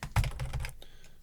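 Computer keyboard key presses during a hotkey demonstration, a few close clicky taps bunched in just over a second, the first strike the sharpest, fading into quiet room tone.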